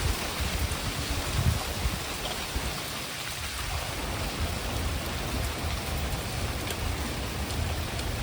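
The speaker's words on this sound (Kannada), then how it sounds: "ಮಳೆ ಬೇರೆ ಬರ್ತಾ ಇದೆ" Steady rain pours down in a village setting, a dense continuous hiss of drops striking surfaces, even and close throughout, with no voices.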